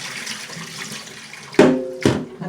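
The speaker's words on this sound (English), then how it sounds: "So you pour the water and strain it for now." Cold tap water poured over rice to strain and rinse it, a soft background flow followed by two sudden, close splashy gushes with ringing tones as water hits the pot.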